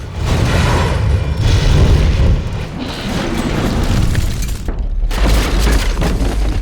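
A practical film explosion on a Paris street: rumbling booms and a roaring blast, loud and dense, with debris-like crackle filling the whole stretch.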